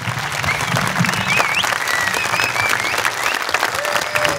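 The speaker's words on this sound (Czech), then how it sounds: "Dámy a pánové, prosím, přivítejte potleskem Carlose, Terminátora Vémanu a jeho ženu Lalu" Loud, steady applause from a live crowd welcoming a fighter at a Czech-Slovak combat sports event, sustained clapping throughout with some cheers and whistles mixed in.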